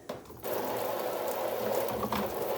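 Seedlings in seed trays are watered indoors with a steady rushing spray of water that starts suddenly and runs on close by, briefly dipping near the end, with no talking.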